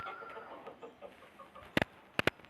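Soft clucking from chickens, a few quiet murmuring calls followed by sharper squawks near the end, fairly faint.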